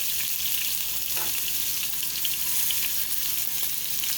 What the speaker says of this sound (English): We're going to go ahead and throw our peppers and green onions inside of the pan.